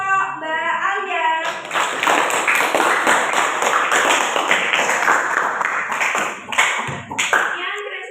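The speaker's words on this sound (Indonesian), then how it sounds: "Beri tepuk tangan dulu untuk kelompok Mbak Alia." Classroom applause for a presenting group during a teaching performance assessment, a steady burst of many hands clapping from about 1.5 seconds that fades toward the end, with voices around it.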